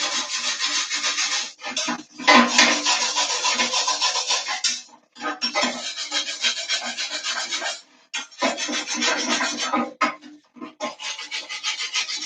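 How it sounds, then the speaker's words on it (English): A wire brush scrubs steadily over MIG welds on a bowl made of horseshoes, with close rasping strokes in long runs broken by short pauses. "I just take the wire brush, and I'm just going to clean up each weld"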